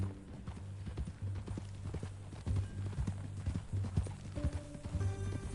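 Steady clip-clop of horse hooves at a walking pace in the video game Red Dead Redemption 2, close by and fairly quiet, with low hum underneath.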